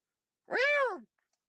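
A single clear cat meow, drawn out for about half a second with a rising-then-falling tone, heard alone against silence.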